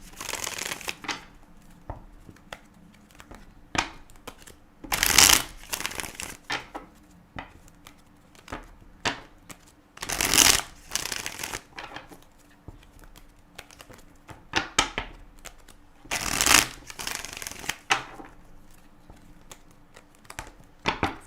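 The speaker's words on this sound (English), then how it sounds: "Really want to shuffle your cards up here." Tarot cards being shuffled in several bursts of crisp riffling and flicking, with soft handling noises and quiet pauses between the shuffles.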